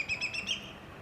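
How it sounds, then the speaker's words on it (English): A loud, piercing whistled call of a whistling kite rings out in a few descending notes, clear against quiet surroundings, near water at Goolwa Barrage, South Australia. "With its distinctive loud piercing call, the whistling kite is a bird heard long before it is seen."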